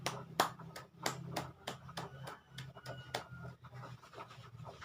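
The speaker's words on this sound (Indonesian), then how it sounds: "Tepuk tangan dulu untuk semua peserta yang hadir pada hari ini." Participants at an Indonesian class session clapping, a sparse, uneven patter of a few hands with distinct individual claps spread across the clip, fairly quiet and close, without talk.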